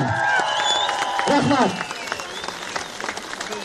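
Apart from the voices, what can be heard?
crowd applauding at election rally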